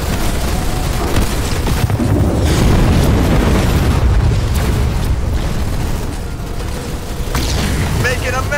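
An enemy structure being destroyed in the video game Halo Wars 2, with heavy, continuous rumbling booms and crackling debris under battle noise and game voice lines throughout.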